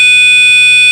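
A steady, loud, high-pitched electronic warning buzzer sounds continuously from a vehicle during tail light wiring work, a single unbroken tone with no talk.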